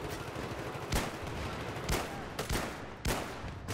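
Magnum revolver gunshots in Battlefield 3, four sharp, loud reports spaced about a second apart, each with a brief echoing tail over low background game noise.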